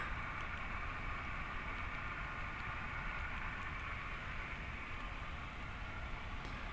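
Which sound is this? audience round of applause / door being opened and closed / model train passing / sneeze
model train passing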